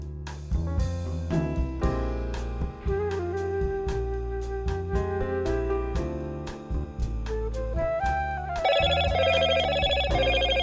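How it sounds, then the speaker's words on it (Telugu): A phone ringtone plays loudly and continuously, a melodic electronic ring for an incoming call heard alone with no voices over it, shifting to a brighter tune near the end. "ఏంటి ఇంత పొద్దున్నే ఫోన్ చేస్తుంది?"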